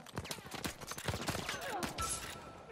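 Rapid gunfire in Uncharted 4, a quick irregular string of faint sharp shots with distant combat noise, while a voice talks over it.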